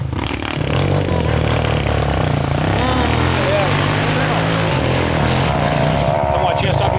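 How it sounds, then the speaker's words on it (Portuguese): Small dirt motorbike climbing a trail in Miracema, RJ, its engine droning loud and close with a wavering, revving pitch throughout, while people talk over it. "Essa motinha sobe muito fácil"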